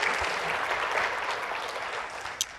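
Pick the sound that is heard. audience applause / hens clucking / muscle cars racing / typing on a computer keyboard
audience applause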